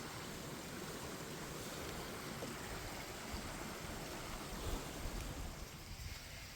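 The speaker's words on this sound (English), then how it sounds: "This creek is not usually raging like this." Continuous rushing water, a dense steady roar from a creek swollen by heavy rain, with no voices and only slight swells in loudness.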